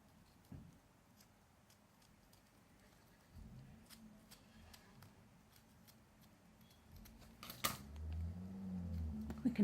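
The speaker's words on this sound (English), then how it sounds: "I'll just scrape along there with my scissors as well." Quiet, intermittent scraping of scissors blade along card edges, with soft handling noises and rustles growing louder toward the end.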